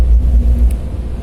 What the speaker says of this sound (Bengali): এই যে একটা গাড়ি ফেসে গেছে এবং সে আটকায় রয়েছে